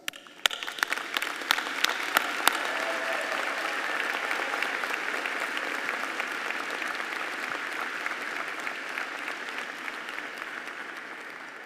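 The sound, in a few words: audience applause at graduation ceremony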